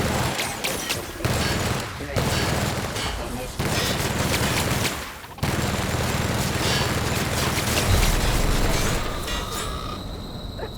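Sustained heavy gunfire from a weapon with strong recoil in the video game The Outer Worlds, a dense continuous barrage with two brief pauses, loud and close throughout.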